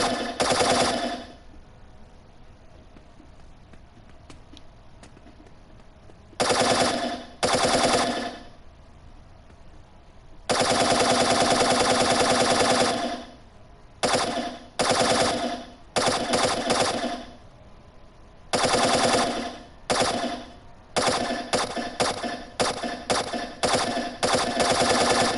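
A machine gun fires in a video game in loud, repeated bursts of varying length, some lasting several seconds, separated by quiet gaps and ending in a flurry of short rapid bursts.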